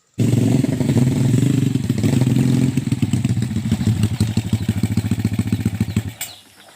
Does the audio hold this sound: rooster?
no